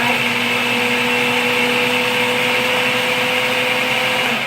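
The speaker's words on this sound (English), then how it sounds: "Now it's blending really easily and really nicely" A blender running steadily while blending basil pesto made with olive oil and fresh tomato juice, a loud continuous motor whine with a constant pitch, heard alone.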